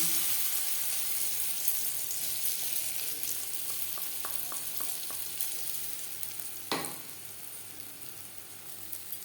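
Ground moong dal frying in a little mustard oil in a kadai gives a steady, bright hiss. A few light stirring taps and one sharp clink of a utensil against the pan cut through it.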